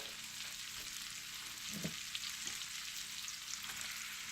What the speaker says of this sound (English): And I'm going to add that celery, and then I'm going to add the onions.